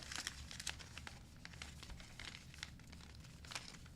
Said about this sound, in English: Now take the bottom, fold it up, then the front, fold it up.